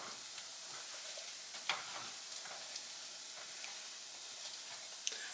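Breakfast food stirred in a frying pan, a steady soft sizzle with faint scraping and a few sharp clicks of the utensil against the pan, close and fairly quiet.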